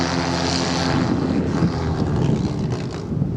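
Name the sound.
aeroprop propeller-driven boat running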